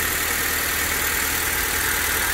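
A Honda Civic engine idles steadily and quietly, a constant low hum with even broadband noise running unbroken throughout, with no voices over it.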